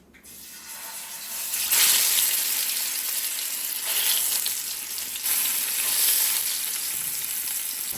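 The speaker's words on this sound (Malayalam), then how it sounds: "മീൻ മാത്രമേ ഞാനിപ്പോൾ വറക്കുന്നുള്ളേ" Fish sizzles and crackles steadily in hot oil, the hiss swelling in waves as pieces are turned, with no talking.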